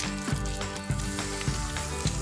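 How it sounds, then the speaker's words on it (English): Crab cakes sizzle in vegetable oil in a skillet, a steady close frying crackle running throughout, with a few soft periodic thumps, no voices. "Got that sizzle. I mean, as soon as it touched that skillet, I could smell it."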